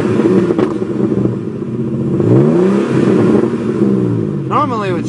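A 1983 BMW E28 533i with straight pipes revs, the engine note rising and falling in sweeping pulls up close, with a sharper rev burst at the end and speech heard alongside.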